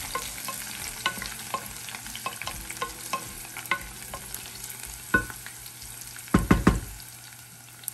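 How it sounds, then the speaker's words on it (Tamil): Onion, mint and coriander sauté in a pan with a constant low sizzle and frequent spatula scrapes and taps, ending in a quick cluster of louder stirring knocks. "சேர்த்து எல்லாத்தையும் நல்லா வதக்கிறது தான் இம்பார்ட்டண்ட்."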